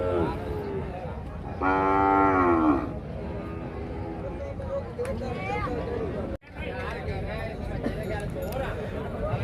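A calf at a livestock market lets out one loud, drawn-out moo close by, surrounded by continuous background chatter and crowd noise.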